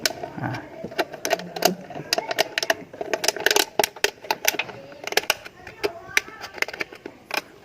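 Drain screw on the diesel fuel filter of a Toyota Vigo being turned loose by hand, with a run of close, dry mechanical clicks and ratcheting ticks in an uneven rhythm.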